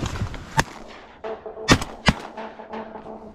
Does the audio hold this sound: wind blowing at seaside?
no